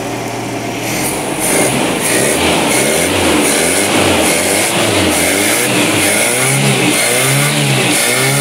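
The engine of a Nissan C22 Vanette van, previously hard to start and down on power, revs up and holds a loud, steady high idle with rising and falling pitch, close to the microphone.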